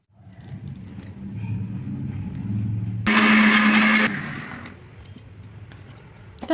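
A mixer grinder blends roasted coconut, roasted garlic and curry leaves into chutney, with a loud one-second whir from the motor standing out above a quieter background rumble.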